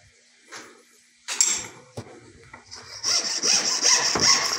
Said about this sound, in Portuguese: Com o pingente furado, agora basta a gente serrar ele com bastante capricho.